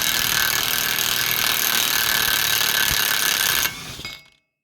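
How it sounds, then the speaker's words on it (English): A power tool loosens the front wheel hub nut on a 2013 Chevrolet Tahoe, running in one loud, steady whirring buzz for several seconds before stopping abruptly and trailing off. "Let's just get the power tools out and see what happens."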